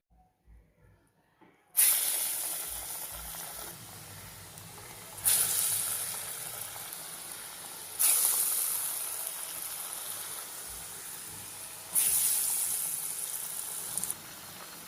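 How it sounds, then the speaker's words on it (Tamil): Chana dal masala vadai patties dropped one by one into hot oil, each bursting into a loud hiss that gradually fades, four sharp sizzling onsets spaced a few seconds apart, close and with no talking. "தட்டி இதில் எண்ணெயில் போடணும்."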